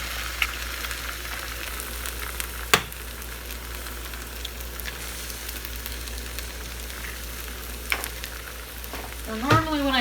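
Eggs scrambling and frying in a hot pan on high heat, a steady crackling sizzle throughout with occasional sharp clinks of a utensil against the pan.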